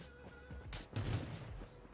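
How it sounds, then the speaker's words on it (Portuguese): A few sharp gunshots crack out in the mobile battle-royale game Battlegrounds Mobile on Android, two close bursts in quick succession over low game ambience. "O tiro tá sendo embaixo aqui."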